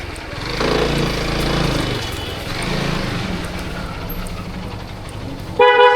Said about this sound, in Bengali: এটা হরেন দেখছেন